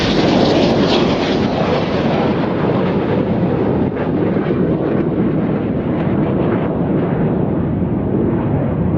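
Red Arrows display jets roar loudly and continuously overhead during an airshow, a dense, steady jet engine rush with wind buffeting and no talk.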